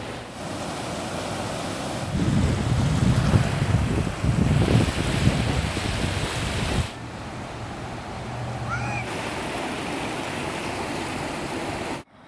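A roaring river rushes steadily past a shaded walking path near Boulder, Colorado, a broad continuous wash of water noise with wind buffeting the microphone, heavier in the first half then slightly thinner.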